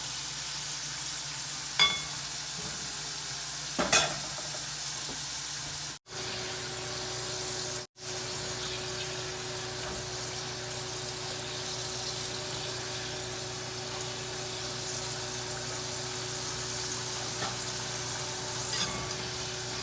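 Homemade McDonald's-style french fries frying in oil over medium-low heat, with a steady, soft, continuous sizzle and a couple of faint clicks near the start, with no talking.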